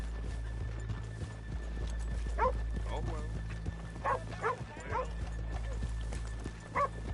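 Horses' hooves clip-clopping in Red Dead Redemption 2, a steady soft tapping under a low ambient rumble, with a few bursts of voices or animal calls breaking in.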